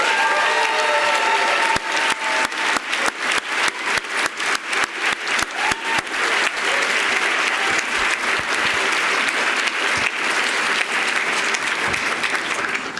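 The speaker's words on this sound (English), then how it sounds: "I'd like to ask everyone to please give a warm round of applause to the faculty of the New School for Social Research" Long, sustained applause rises from the audience at a graduate school recognition ceremony honouring faculty. A full, even wash of many hands keeps going from start to finish, with sharper individual claps cutting through at times.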